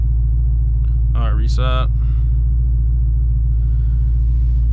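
A Hellephant-powered Chrysler 300 rumbles steadily at low pitch throughout, a constant heavy drone with a man's short remark partway through.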